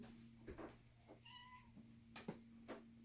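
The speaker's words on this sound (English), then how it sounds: "kitty cat is being bad, so you need to get down" Indoor cat in a cluttered craft room meowing: a few short, fairly faint meows alone over a steady low hum.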